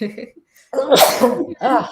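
A single sneeze bursts out mid-conversation, loud and close, with people talking just before and after it.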